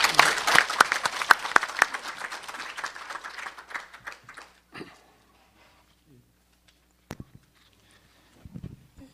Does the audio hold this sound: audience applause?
yes